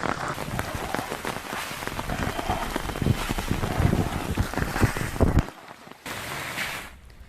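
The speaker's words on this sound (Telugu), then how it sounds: "గుంటూరు జిల్లా వ్యాప్తంగా ఎడతెరిపి లేకుండా వర్షం కురుస్తోంది" Heavy, unbroken rain pours down across Guntur district, a dense loud wash of drops with gusty rumble, easing abruptly toward the end, with no talking.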